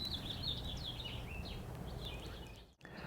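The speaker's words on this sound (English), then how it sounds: "Do you hear the birds?" Faint birds chirp and warble repeatedly in the distance in an April garden, over a soft outdoor hiss, with a brief bump near the end.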